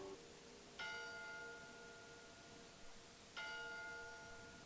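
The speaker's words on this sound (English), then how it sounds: "Who rung the bell?" A bell rings in the 1959 Twilight Zone episode "Where Is Everybody?", struck twice a few seconds apart. Each strike rings out clearly with a long, resonant, fading tone over a quiet background.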